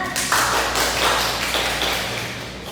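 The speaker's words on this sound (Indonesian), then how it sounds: "Tepuk tangan." Children clap their hands together in a classroom, a steady run of sharp, close taps that carries on through the whole stretch without talk.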